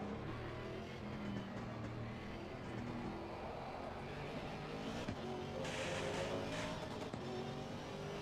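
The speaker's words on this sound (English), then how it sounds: "Need to get used to the rev limiter." A race car in Assetto Corsa Competizione at wet or dry Zandvoort, engine droning steadily at high revs with a harmonic buzz, faintly bumping the rev limiter, heard low and continuous throughout.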